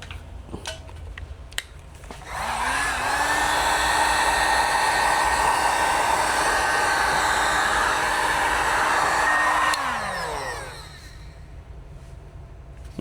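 A heat gun post-heating a vinyl wrap on the front door skin of a 2019–2025 Toyota RAV4, a loud steady blowing whir that starts abruptly, holds for about eight seconds, then winds down, close by.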